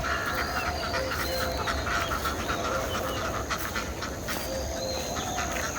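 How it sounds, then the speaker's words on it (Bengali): Ducks quack in a busy, overlapping chorus close by in a Bangladeshi village as they are let out toward a pond, the calls rising and falling over a steady outdoor background. "ওই যে হাঁস ছেড়ে দিছে, হাঁসগুলো পুকুরে নামবে মনে হয়।"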